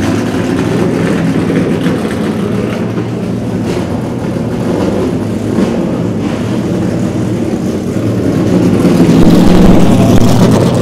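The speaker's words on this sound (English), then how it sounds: "Just about 1 minute here before these cars roll out onto the track" NASCAR Sprint Cup race cars sit in the garage before rolling out onto the track for practice, producing a loud, steady low engine rumble that swells near the end.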